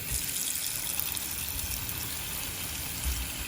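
Tap water runs steadily, close and moderately loud, a continuous hiss filling a container to soak stockfish, with no voices.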